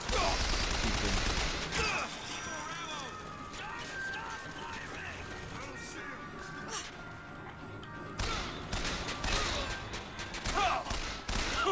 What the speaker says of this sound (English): Oh, hand cannon.